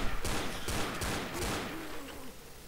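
Several gunshots fire in Left 4 Dead, four or five sharp, evenly spaced cracks close by, each with a brief ringing tail, ending in a fading echo.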